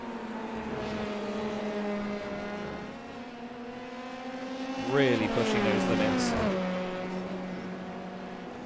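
Formula 3 cars in a sim racing game drone at high revs, then rattle and scrape over the curbs in a rough burst midway before settling back to the engine whine, with a commentator talking.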